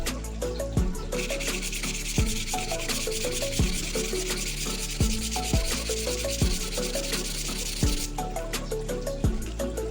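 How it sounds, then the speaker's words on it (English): Fine sandpaper rubs back and forth over a glued wooden drawer in steady rhythmic strokes, each pass a close, dry scratchy swish with faint knocks at the turnarounds. "we sand it using fine sandpaper"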